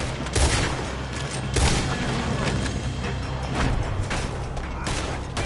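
A shootout in Red Dead Redemption 2 brings a steady barrage of gunshots and booming blasts, loud and close, with the dense firing going on for the whole stretch.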